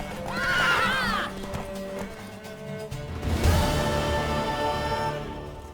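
A horse whinnies loudly with a rising, wavering cry, followed by a second neigh amid bustling background noise and hoofbeats, in The Witcher 3: Wild Hunt.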